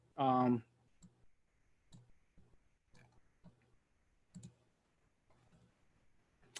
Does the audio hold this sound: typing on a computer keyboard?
yes